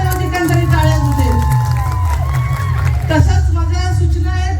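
A crowd of women at a Nagpanchami gathering cheers and shouts with dense, loud hubbub throughout, a steady roar of voices with scattered whoops rather than distinct clapping.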